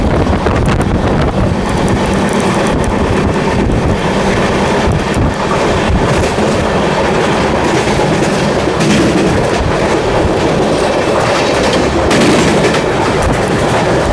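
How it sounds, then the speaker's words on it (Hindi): Amrit Bharat Express LHB coaches running on the track: a loud, continuous rolling rumble with rhythmic clatter and heavy wind buffeting throughout, heard from inside the moving train with no talk. "काफ़ी अच्छे LHB ट्रैक साउंड्स आ रहे हैं।"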